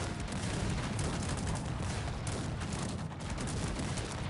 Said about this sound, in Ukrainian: Зносяться будівлі гарматами.